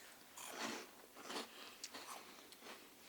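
Crisp croutons crunch between the teeth in several quick bites, close and fairly faint, with no talking.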